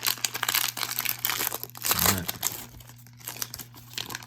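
A Donruss basketball card fat pack is torn open, giving a close, loud run of crinkling foil wrapper and tearing, with scattered handling rustles over a few seconds.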